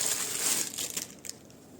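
Plastic packet from a parcel being unwrapped, giving a close, continuous crinkling and crushing rustle that eases off toward the end, with no talking.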